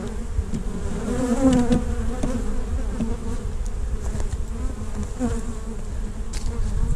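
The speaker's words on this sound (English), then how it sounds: "I'm gonna go check these bees" A swarm of honey bees disturbed during a cutout from the floor of a second story drones continuously and densely nearby, with individual bees zipping past over the steady hum.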